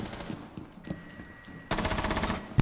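Rainbow Six Siege gunfire: sparse distant shots and thuds at first, then a loud close burst of rapid automatic fire that holds steady through the last second.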